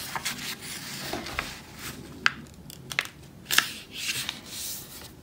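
Square sheet of paper being folded into a tiger bookmark, with soft close crinkling and rubbing plus a few sharp crisp creases pressed in, quiet and alone with no talking.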